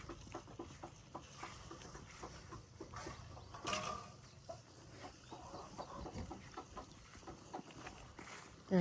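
Chickens cluck steadily near a coop on a farm, with soft overlapping calls and scratching close by under quiet outdoor background noise, and no one speaking.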